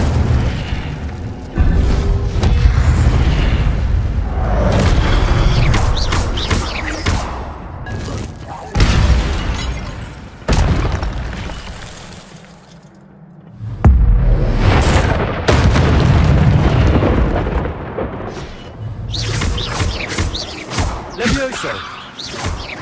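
Hogwarts Legacy combat with the Incendio fire spell, heavy booming blasts and thuds layered over constant game noise, a brief lull near the middle before the loud explosive bursts resume, with voices calling out throughout.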